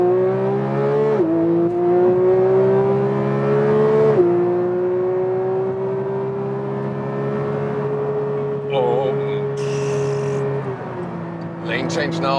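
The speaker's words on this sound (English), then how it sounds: "There's less sound dampening, you know, so you hear more of the engine" A Porsche 911 GT3 Touring of the 992 generation sends out its engine note from inside the cabin, rising in pitch as it accelerates and dropping briefly at each gear change. Someone talks over the loud, steady engine.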